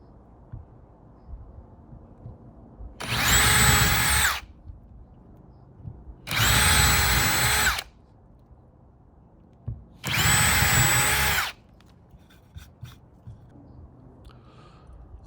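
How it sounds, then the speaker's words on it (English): Power drill boring into a wall with a 5/32 drill bit for mounting house numbers: three loud, steady whining bursts of about a second and a half each, separated by quiet pauses, close by. "So I'm going to drill in with a 5/32 drill bit."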